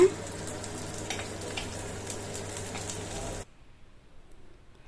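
Chopped medium-sized onion sizzles and fries in hot oil in a clay pot while prawn gravy is being made, giving a soft, steady crackle that cuts off abruptly partway through, leaving near silence.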